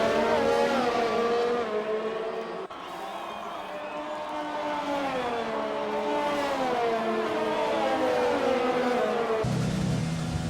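Formula 1 race cars in an F1 esports video game at the Russian Grand Prix scream past under a safety car, loud continuous engine whine with rising and falling pitch sweeps and a brief cut.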